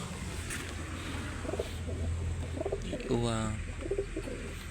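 Pigeons or doves cooing near a nest with two eggs: soft, repeated low coos with a few chirps over a steady background hum, fairly close and moderate in volume.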